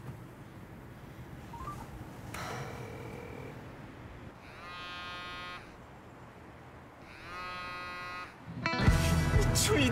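Short bursts of electronic telephone tones sound in sequence, separated by quieter gaps, ending in a louder harsh buzzing burst.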